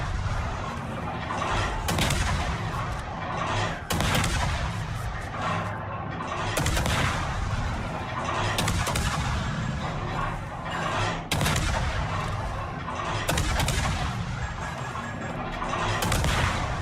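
Warship guns fire in World of Warships, a naval combat video game: heavy booming salvos go off roughly every two seconds, each a sharp loud blast trailing into rumble, with a brief word spoken between shots.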